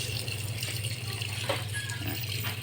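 Water gushes and trickles steadily through a car's catalytic converter being flushed clean, a continuous close wash of running liquid with a faint low hum underneath.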